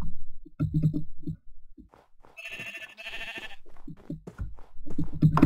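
Sheep in Minecraft bleat several times, with short wavering calls coming in clusters. A brief buzzy game noise sounds in the middle, and the bleats are clear and close, with no talking.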